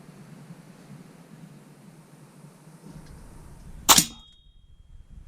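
A single sharp crack from a Crosman Vantage .177 air rifle firing outdoors, loud and close after a few seconds of quiet background hiss, with a brief ringing tail.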